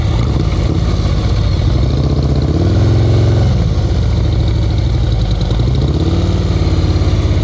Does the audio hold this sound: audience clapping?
no